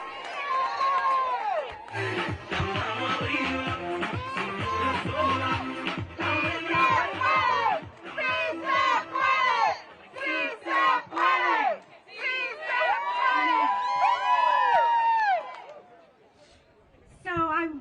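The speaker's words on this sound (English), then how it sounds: "Let's give it a huge round of applause." A protest crowd outside the Supreme Court cheers and chants in loud, rhythmic bursts of many voices, with short pauses between shouts, before the noise drops away near the end.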